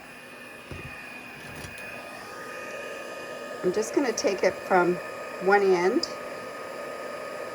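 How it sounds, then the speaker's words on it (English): An embossing heat gun hums and hisses steadily in the background while someone talks over it. "Now I'm just bringing my embossing gun."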